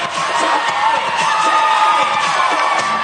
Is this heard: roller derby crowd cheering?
yes